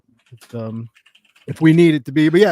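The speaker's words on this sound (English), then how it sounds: "and also I was typing" Light clicking of typing on a computer keyboard sits under people talking, the soft keystrokes clearest in the pauses between their speech.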